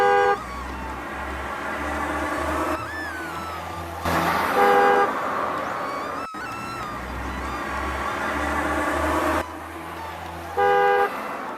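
A cartoon city street fills with busy traffic: several car horns toot in short bursts near the start, middle and end over a continuous hum of passing vehicles.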